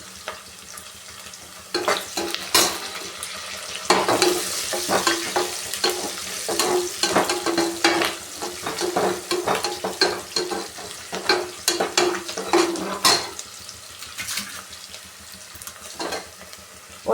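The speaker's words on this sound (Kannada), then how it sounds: "ಹಾಗೆ ಕರ್ಬೇವು ಸೊಪ್ಪು ಹಾಕ್ತಾಯಿದ್ದೀನಿ" Curry leaves sizzle and fry in hot tempering oil for a cabbage palya, with steady crackling and spitting and repeated sharp scraping strokes of a spoon stirring in the pan, close and continuous.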